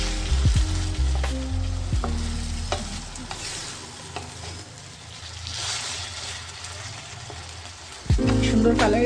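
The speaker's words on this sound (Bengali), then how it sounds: "আমি সব দিয়ে ভালোভাবে নাড়াচাড়া করছি" Loitta fish curry ingredients stirred in a hot pan, a strong steady sizzle with repeated scraping strokes, and a low hum and clatter in the background.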